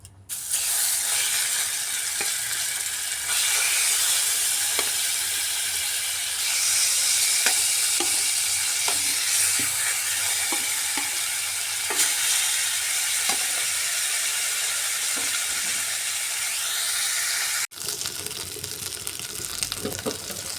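Tilapia fish pieces fry in oil with a dense, constant sizzle, broken by light scraping clicks of a spatula, then a sudden drop and shift near the end.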